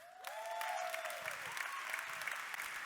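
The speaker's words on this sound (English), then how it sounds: "Please give a round of applause" A large audience at a tech conference keynote breaks into sustained applause, steady dense clapping with sweeping tones audible over it.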